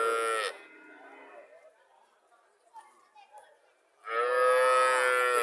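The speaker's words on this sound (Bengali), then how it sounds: "বকনা বাছুর।" A young heifer calf at a dairy farm gives two loud, close moos, one at the start and a longer one at the end, with faint chatter and children's voices in the quieter gap between them.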